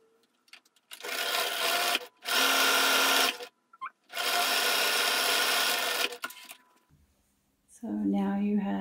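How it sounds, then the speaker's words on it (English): Nearby, a sewing machine stitches a fabric face mask in three loud steady runs separated by brief stops, and a voice speaks after the last run. "So now you have it sewn across the top and the bottom."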